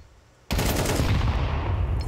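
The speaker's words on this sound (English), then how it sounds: "That's another headshot." Automatic rifle fire in Counter-Strike during a headshot, a sudden loud burst of rapid shots that starts abruptly and keeps rattling with echoing reports, no voice over it.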